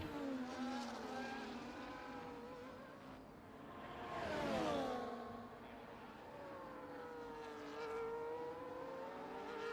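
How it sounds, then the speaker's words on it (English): An F1 car in the F1 24 racing game at Portugal, its engine note rising and falling in pitch as it passes, with a swell of louder passing sound in the middle, fairly quiet overall. "Got a Ferrari coming through."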